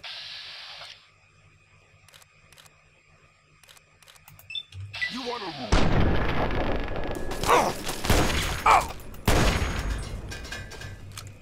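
Sniper rifle fire in the video game Fallout 3, with a couple of loud booming shots and heavy mechanical game sounds building up after a quiet, sparse stretch, close and dense with a speaking voice underneath.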